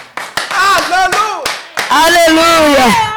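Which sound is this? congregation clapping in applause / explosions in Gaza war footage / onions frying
congregation clapping in applause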